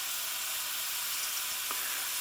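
A steady, bright hiss of onions sizzling in a pan over medium heat, constant and even throughout with no voices.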